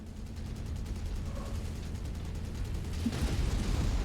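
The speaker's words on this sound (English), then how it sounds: "That was the Warhammer firing the machine guns." In MechWarrior 5, a Warhammer mech fires its machine guns in a dense, continuous rattle beneath a low mechanical rumble, with a sharper impact near the end.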